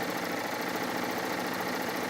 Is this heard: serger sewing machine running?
yes